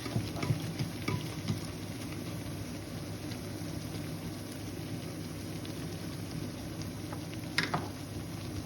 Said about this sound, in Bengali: তারপরে ভেজে দেবেন।